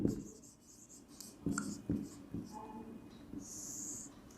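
A marker or chalk scratches across a board in short strokes and squeaks, close and fairly faint, with a voice speaking over part of it.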